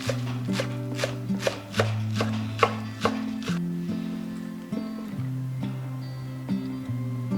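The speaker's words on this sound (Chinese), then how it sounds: "准备一些小葱，切成葱花" Knife chopping green onions on a cutting board for a homemade flour-and-scallion bread, a steady run of close, crisp thuds with a low musical tone running underneath.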